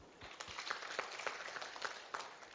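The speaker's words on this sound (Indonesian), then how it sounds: "Bisa tepuk tangan?" A church congregation claps hands during a sermon, a dense, steady patter of many hands with a few sharper individual claps standing out, moderately loud and continuous.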